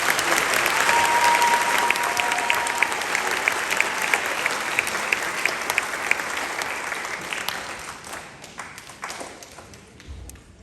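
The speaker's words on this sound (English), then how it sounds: "let's give these students for the Fabulous 50 Club one more round of applause" A school spring band concert audience applauds students, crowded clapping loud at first that gradually thins and tapers off, with scattered claps and a thump at the close.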